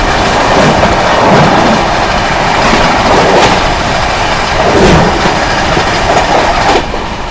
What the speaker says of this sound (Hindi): सामने से आ रही है हरिद्वार बांद्रा टर्मिनस एक्सप्रेस।